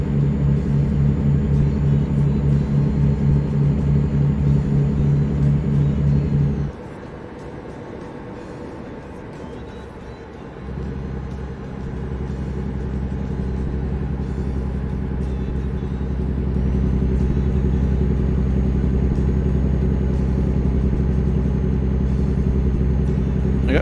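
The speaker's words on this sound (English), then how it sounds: "I got to say, the engine sounds as well are not bad." Steady low diesel drone of a heavy truck engine in American Truck Simulator, loud and continuous, briefly dropping away mid-clip before resuming and building slightly.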